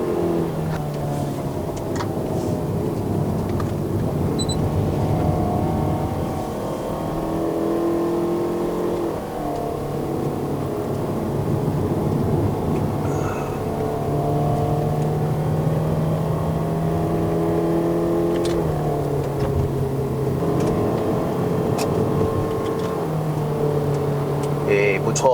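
A Toyota Estima XR50 with a 2.4L engine pulling uphill on the Genting climb in Malaysia, a steady loud engine drone that rises and shifts in pitch through gear changes, heard from inside the cabin with some talk.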